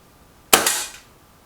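A single sharp air rifle shot from a Milbro Guardian or Stoeger XM1, a close, loud crack that decays quickly, with quiet before and after.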